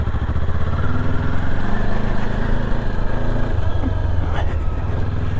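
Kawasaki KLE 500 SE motorcycle idling on a forest road, a steady, loud, close parallel-twin rumble that holds evenly throughout with no talking.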